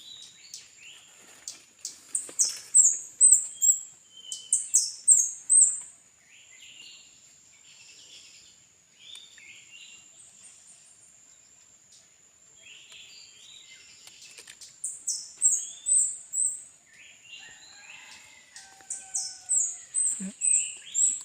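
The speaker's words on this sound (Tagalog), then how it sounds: "may mga ibon." Birds chirp in repeated bursts of short high tweets, with quiet gaps between, over a thin insect-like whine in a calm outdoor setting beside a stream.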